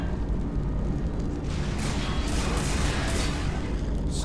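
Sonic rounds weapon fire in the video game Hydrophobia: Prophesy, a dense, continuous roaring blast with rumbling low end and bursts of hissy noise, loud and sustained throughout.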